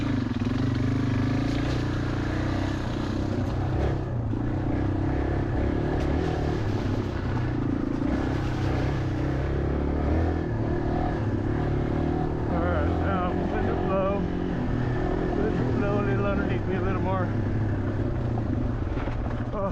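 A Yamaha XT225 dual sport motorcycle rides hard on wooded trails in Belfair, Washington, its single-cylinder engine droning and revving continuously up close, with wind rumble throughout.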